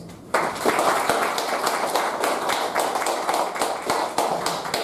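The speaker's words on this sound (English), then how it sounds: "Can we all have a great round of applause?" An audience at a Toastmasters meeting breaks into steady, close applause that starts abruptly and keeps a dense patter of claps for several seconds, with no talking over it.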